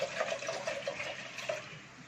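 Water is poured into a grinder jar holding fresh mint leaves for a mint drink, a short, soft, steady trickle and splash close by with no talking.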